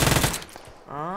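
A burst of rapid Uzi submachine gun fire in a video game, several quick shots packed into the opening moment, loud and close, then trailing into fainter game sounds.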